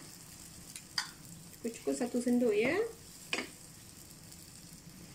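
Butter sizzles and melts in a frying pan while a spoon stirs and clinks, as a cheese-topped fried egg is prepared. Someone talks over the soft, low frying sound.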